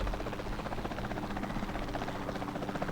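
A helicopter in Jurassic World Evolution 2 makes a steady, fairly loud rotor chop with a buzzing drone that holds constant throughout.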